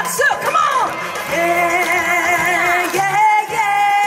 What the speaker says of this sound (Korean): 더 크게 함성!